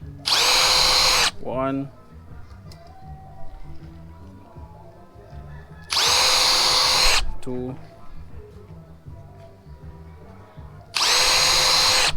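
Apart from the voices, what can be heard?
power drill with small bit drilling holes in frame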